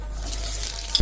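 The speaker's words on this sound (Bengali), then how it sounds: "পেঁয়াজ দিয়ে দিলাম" Chopped onion hits hot oil for a Bengali ash gourd and shrimp stir-fry, giving a loud, steady sizzle with scraping stir strokes throughout and a sharper clatter of the spoon at the very end.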